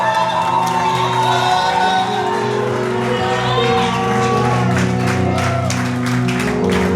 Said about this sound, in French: Poussez un cri de victoire dans ce lieu!